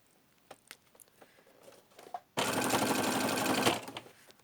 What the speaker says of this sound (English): just continue stitching all the way around there